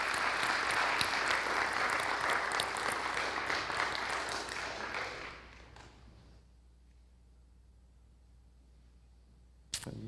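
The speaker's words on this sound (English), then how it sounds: "let's give him one more applause." Applause at an Eagle Scout Court of Honor: a roomful of people clap briskly for about five seconds, then the clapping fades out into a quiet room, with one sharp tap near the end.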